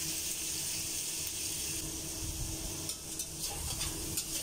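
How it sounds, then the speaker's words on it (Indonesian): Marinated chicken stirred in a pan over high heat, giving a steady wet sizzle with faint scraping and stirring noises throughout, loud and close with no talking. "Kemudian saya aduk merata supaya matangnya itu merata ya teman-teman"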